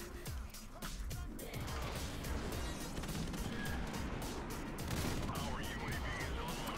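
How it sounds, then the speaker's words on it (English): Explosions and gunfire from a Modern Warfare Remastered match, with a thrown grenade going off in a dense burst of crashing, rattling noise that stays fairly quiet and steady, without one sharp single blast standing out. "Let's chuck a grenade, see if we can get a kill."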